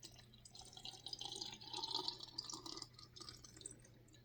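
Clean alkalized water poured into a jar packed with tomatoes and basil for a ferment, a soft, quiet trickle and gurgle that swells and fades over a few seconds.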